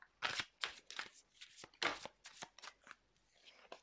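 A deck of tarot cards is shuffled by hand in a quiet room, giving a rapid series of crisp riffling bursts and flutters with short pauses between them.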